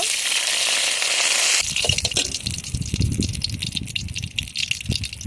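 Dried chilies go into hot mustard oil in a wok, starting with a loud, steady hiss, then shifting to a busier crackling sizzle with rattling as the chilies shift in the pan.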